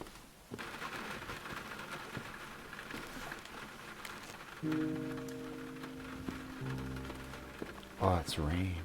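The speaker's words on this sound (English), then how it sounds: "Oh, it's rain." Rain patters steadily and softly, partly masked later by low tonal music and a brief louder sweep near the end.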